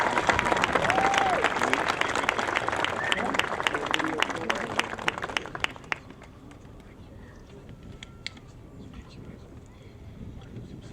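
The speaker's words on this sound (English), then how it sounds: "Let's give another round of applause to Billy and Janice and all the crystals" An audience applauds for Governor Cuomo at an outdoor court dedication in Long Beach, New York, with loud sustained clapping that abruptly thins out halfway through and leaves a few scattered claps over wind-blown background.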